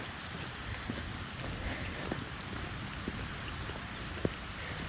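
Heavy rain pours on a farm with standing water in the tunnels, a constant dense patter with occasional louder drops striking nearby surfaces, steady throughout with no voices.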